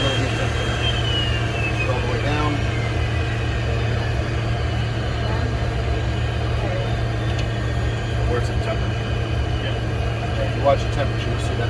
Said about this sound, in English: move down to idle, or to cut off, and that'll shut the engine down